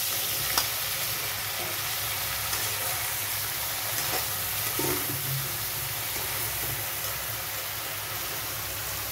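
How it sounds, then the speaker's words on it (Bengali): Thin-sliced eggplant sizzling steadily in a hot pan with turmeric, a few scrapes and knocks of stirring breaking through the constant frying hiss, close and fairly loud with no talk. "বেগুনটা দিয়ে দিলাম। দেখুন বেগুনটা সুন্দর নাড়িয়ে চাড়িয়ে দিয়েছে।"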